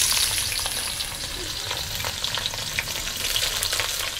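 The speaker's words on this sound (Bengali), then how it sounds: "প্রথমে আমি উচ্ছেগুলো ভেজে নেব। তেলের মধ্যে উচ্ছে দিয়ে দিলাম" Bitter gourd pieces fry in mustard oil in a wok, a steady, loud, close sizzle and crackle with soft stirring scrapes throughout and no talking.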